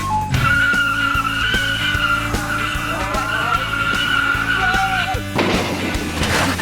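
Cars skid in an auto wreck experiment, with long tire squeals and engine noise that run loud and steady for about five seconds before a harsher, noisier burst at the end.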